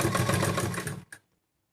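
A sewing machine stitches a rolled edge on a cloth face mask, a steady close whirring run for about a second that stops abruptly, followed by one short clack and then silence.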